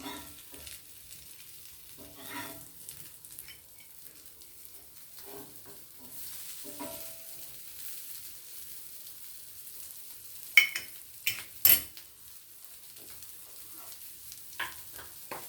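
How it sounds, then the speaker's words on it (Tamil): Green pea cutlets, a green peas karunai evening snack, fry in a pan with a soft, steady sizzle and occasional stirring, with a few sharper spatters and clacks near the end; no one speaks. "நம்ம எல்லா சைடும் வேக விட்டு எடுத்தோம்னா ரொம்ப நல்லாயிருக்கும்."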